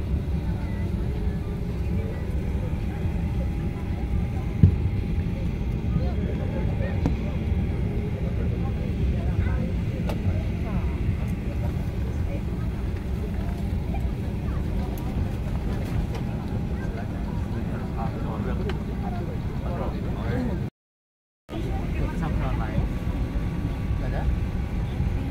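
Cabin of a Garuda Indonesia airliner bound for Bali, filled with a steady, dense low roar of engine and air noise that runs unbroken apart from a brief cut near the end.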